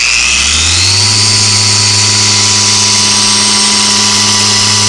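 A dual action car polisher spins up and runs at a steady speed, a loud, continuous close-up whine and hum that settles into an even pitch after the first second.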